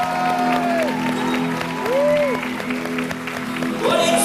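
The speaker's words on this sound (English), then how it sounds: "Let's give him a big round of applause." Port Talbot social club audience applauds under a singing voice with held, sliding notes, the clapping moderate and continuous.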